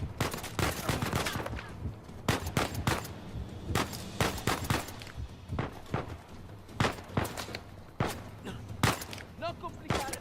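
Gunfire in the Uncharted 4 video game, with rapid bursts of close shots and sharp reports cracking repeatedly over a constant bed of game ambience, some volleys densely clustered and others spaced apart.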